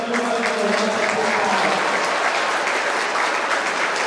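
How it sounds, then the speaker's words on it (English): Steady applause from a crowd in a school gym after a Sutherland vs Mendon girls' game at the Rainbow Classic, loud and dense throughout, with faint voices mixed in near the start. "how about another round of applause for our student athletes?"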